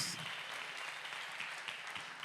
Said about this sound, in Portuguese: Aplauda ao Senhor então